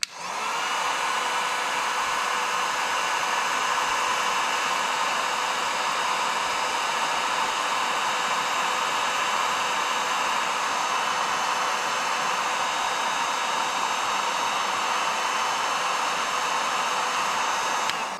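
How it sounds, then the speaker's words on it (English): A worn Harbor Freight heat gun shrinks heat-shrink tubing onto a cable lug, giving a steady, loud, close blowing hiss that runs unbroken for the whole stretch with no talking. "we're going to slide our heat shrink up and shrink it down. Yeah, and this is just it's kind of beat up, but it's just a heat gun from Harbor Freight."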